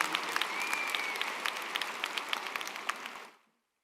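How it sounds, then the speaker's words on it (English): An audience at a commencement address applauds steadily and close by, with dense sustained clapping that fades out near the end. "that's deserving applause for sure"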